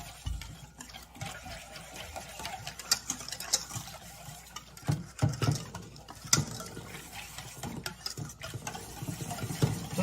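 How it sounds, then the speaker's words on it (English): A whisk scrapes and patters rhythmically in a bowl, blending a sauce with black pepper; quiet clicking and swishing strokes continue at an uneven pace, with a few sharper taps against the bowl. "We're literally just gonna whisk this all together."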